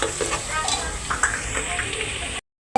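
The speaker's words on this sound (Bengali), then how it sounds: "পেঁয়াজ ভালো মতো বেরেস্তা করে এরপরে দিব।" Sliced onions sizzle steadily in hot oil in a pan for a country rooster curry, a continuous close frying hiss with light stirring, ending in a brief silence.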